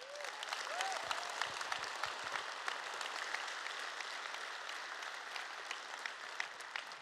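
A large convention audience at EVE Fanfest 2011 applauds steadily for several seconds, a dense, even wash of clapping from a crowd heard from a distance.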